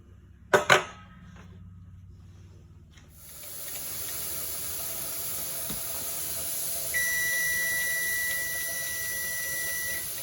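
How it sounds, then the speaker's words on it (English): An All American pressure canner venting steam on a stove, a steady hiss that starts after a few sharp knocks, with a thin electronic timer beep pulsing repeatedly over the hiss near the end. "Timer has went off."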